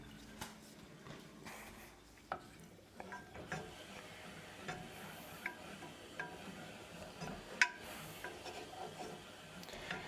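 A wooden spoon stirs a thick medieval pottage of peas in a pot, giving a soft, steady scraping and rubbing with scattered small clicks and knocks, quiet and close, with no talking.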